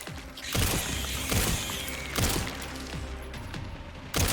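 Gunfire in the video game Resident Evil Requiem is aimed at a swarm of baby spiders. Four loud shots with metallic, mechanical tails ring out at irregular intervals over a dense, steady game backdrop.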